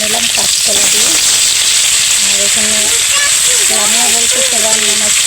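Fish fries in hot oil with a loud, continuous sizzle and hiss close by, while people talk over it throughout.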